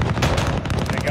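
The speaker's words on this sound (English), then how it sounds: "Mike, here comes gun run" Aircraft gun run strafing a target in Call of Duty Modern Warfare, a dense, loud continuous roar of rapid cannon fire and impacts lasting about a second, with radio chatter layered over it.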